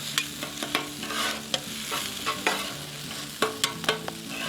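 Hibachi-style steak, chicken and shrimp sizzle on a hot Blackstone griddle with soy sauce, a steady close frying hiss broken by repeated sharp clicks and scrapes of a metal spatula.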